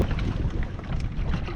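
Steady gusty wind buffets the microphone with a rough, low rumble, continuous and loud throughout.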